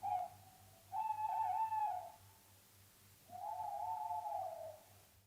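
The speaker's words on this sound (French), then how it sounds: "Un autre bruitage que l'on entend, ce sont des bruits d'animaux, des chouettes ou des hiboux" Owl hooting used as a sound effect in a French horror film: two long, steady whistling hoots, the second after a pause, heard fairly faintly over a low pulsing hum.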